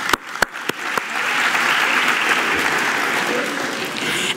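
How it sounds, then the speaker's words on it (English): A few isolated claps at first, then a full audience breaks into sustained applause at a 2018 graduation ceremony, steady and even to the end. "another applause for our honorable dignitaries who took from their precious time to be with us today"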